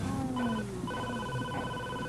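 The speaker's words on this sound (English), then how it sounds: "Oh, God, there's the phone." A telephone rings with a steady electronic warble, fairly close and clear, with no voices over it.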